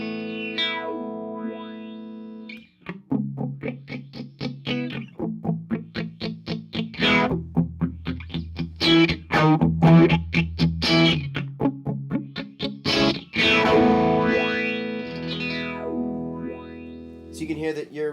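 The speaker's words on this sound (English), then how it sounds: "you can hear that I'm sweeping across the low pass filter" Chase Bliss Audio Condor pedal shaping a distorted, effected guitar as its low pass filter sweeps, the tone opening and closing through a string of plucked and strummed notes, loud and alone.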